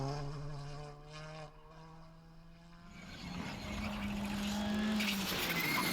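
Skoda rally car on a special stage of a British rally championship round, its engine droning steadily then rising louder and harsher midway as it nears, with no talk.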